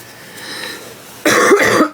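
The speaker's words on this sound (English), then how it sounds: "I'm so sorry for coughing in your ear." A single sharp, loud cough bursts out close to the microphone after a quiet stretch of soft background noise while someone is knitting or spinning yarn.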